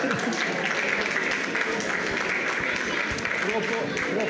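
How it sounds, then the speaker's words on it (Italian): A crowd at a Castelfidardo music-industry day event claps in a steady, fairly soft spread of applause, with voices faintly mixed in beneath it. "inviterei tutti a fare un grosso applauso e un ringraziamento"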